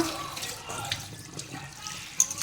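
Goat blood is rinsed in water, with running tap water splashing and gurgling into a basin in a continuous close wash and a few sharper splashes near the end.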